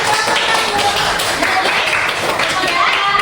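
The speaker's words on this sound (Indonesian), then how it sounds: "Oke, ada tepuk tangan" Hand clapping in a classroom after a student group presents, a steady patter of many hands with children's voices chattering underneath throughout.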